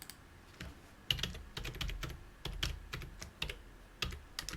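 A computer keyboard is typed on in short, irregular bursts of crisp clicks, close and clear, with no talk.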